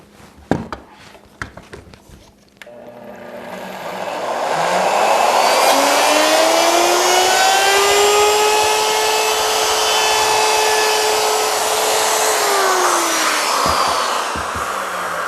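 A router rounds over the edge of a piece of scrap wood, starting with a few knocks before the motor spins up to a loud, steady whine that holds with slight pitch shifts and then winds down.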